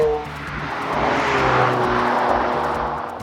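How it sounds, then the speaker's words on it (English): Twin-turbocharged 4-litre V8 of a McLaren 720S Spider drives past in a loud, swelling roar that builds and holds, a broad rushing engine note with steady low hum beneath, no talk. "The 720S is powered by a twin turbocharged 4-litre V8 mounted just behind me"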